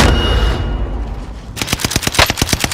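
Rapid bursts of video game machine-gun fire, a loud rattling volley of evenly spaced shots that starts partway through after a rumbling battle din.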